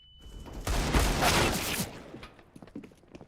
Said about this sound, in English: Oh, there's some nice deagle shots coming in.